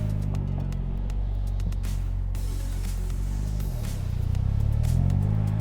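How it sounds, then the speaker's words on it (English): A Polaris Slingshot SLR pulls away in first gear, a steady close engine drone with low harmonics that climb as it accelerates near the end, no one talking. "put the car in first gear, and let's go"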